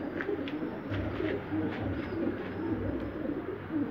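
A brooding pigeon on its nest bowl with squabs gives low, continuous cooing, close and steady, with faint clicks and rustles over a droning background.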